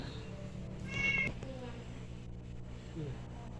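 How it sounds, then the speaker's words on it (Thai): A pet cat meows near the microphone, one drawn-out meow with a rising and falling pitch and a softer follow-up, while a person speaks quietly over a low background hum. "น้องเหมียวทำไรน่ะทำไรนะ"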